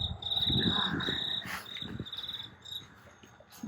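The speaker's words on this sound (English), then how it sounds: "You hear those crickets?" Crickets chirp steadily in a high, continuous trill, with a few soft rustles and thumps nearby underneath.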